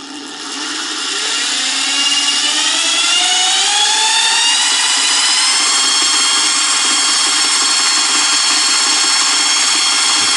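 A homemade guitar pickup winder spins up to 1000 RPM, its loud, whining motor tones climbing in pitch over the first few seconds, then holding as an even, continuous high hum with no voices.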